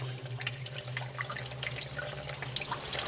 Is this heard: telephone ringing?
no